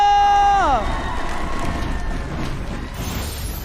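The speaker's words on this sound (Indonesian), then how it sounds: "So MPL Arena mana tepuk tangannya?" An arena crowd at an MPL esports match roars and cheers after a descending electronic tone, a broad noisy wash of many voices that holds steady at moderate loudness with some clapping mixed in.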